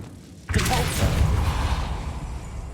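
A Depulso spell cast in the Hogwarts Legacy video game: a sudden whooshing burst with a deep thump and rumbling tail that fades out over a couple of seconds.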